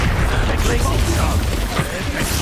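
Repeated Expulso spell explosions in Hogwarts Legacy, booming blasts and crackling bursts rolling over one another without a break, loud and busy throughout, with a voice talking in between the impacts.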